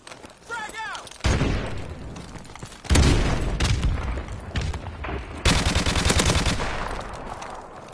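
Call of Duty Modern Warfare Remastered match audio with bursts of rapid gunfire and heavy booming impacts from a grenade blast, loud and close, layered over game voice callouts.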